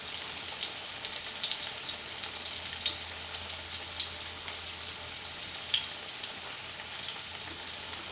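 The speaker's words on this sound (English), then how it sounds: "I can hear them sizzling" Fried green tomatoes sizzling in a pan, a steady close crackle of hot oil with frequent small pops and spits, continuous throughout.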